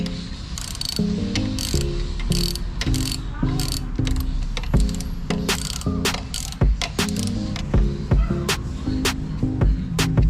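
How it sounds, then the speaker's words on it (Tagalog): A ratchet with a 12mm socket wrench turning on a Raider 150 Fi motorcycle during chain cleaning, giving rapid repeated metallic clicks in uneven bursts, close up over a busy mechanical background. "So kailangan natin ng ratchet at 12mm na socket wrench."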